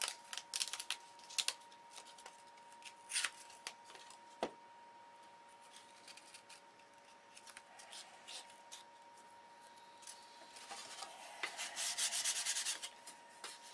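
A control line electric Thunderbolt model airplane's stabilizer is sanded with 180 grit sandpaper: close, dry rubbing strokes in uneven bursts, growing more vigorous and steady toward the end.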